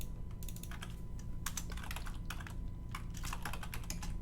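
Computer keyboard keys clicked while saving Photoshop character sticker files, a steady run of light, close typing taps and clicks with no talk over them.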